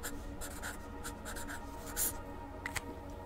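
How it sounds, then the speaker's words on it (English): A pen scratching a quick reminder on paper right beside a microphone, a continuous faint rubbing scrawl with short stroke bursts. "I've just realised I need to quickly write down a reminder real quick."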